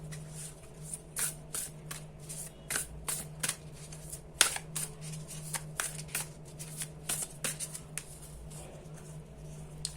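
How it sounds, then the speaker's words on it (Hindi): Oracle cards being shuffled and drawn by hand, a steady run of soft papery riffles and slaps repeating through the whole stretch over a low constant hum, with no talking. "अब मैं यहाँ से आपके लिए ओरेकल कार्ड्स निकालूंगी"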